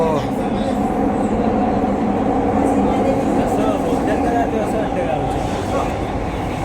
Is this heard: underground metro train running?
yes